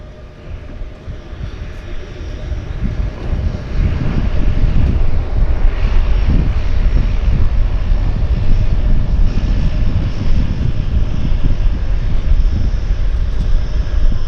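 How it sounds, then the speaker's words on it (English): An airplane lands at Vancouver Harbour Airport, its engine roar swelling to a loud, steady rumble that persists throughout. Broadband noise fills the scene with no voices. "Beautiful landing."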